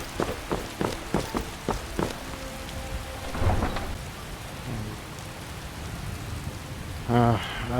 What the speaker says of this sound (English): I wish the rain would stop.